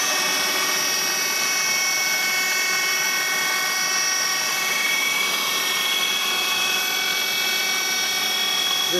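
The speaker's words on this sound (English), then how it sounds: "This is actually starting like it's cutting out a complete circle, so we have to kind of wait for the machine to catch up to the wheel." A CNC lathe turns a Subaru wheel to cut down its offset, giving a steady high-pitched whine with tonal ringing. The machining noise holds constant and loud for the whole stretch, and nobody talks over it.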